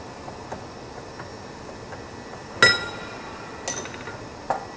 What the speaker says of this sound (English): Use a plastic hammer.